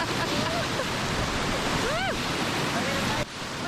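Whitewater roars in a continuous loud rush as a raft runs Kiss and Tell, a class 2 rapid on the Salt River in Arizona, with excited voices and whoops carried over the water noise.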